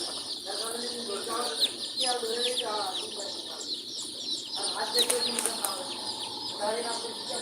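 Hybrid Sonali chickens at a poultry business cluck and call repeatedly at moderate volume, with other chicks and birds chirping in the background and voices talking.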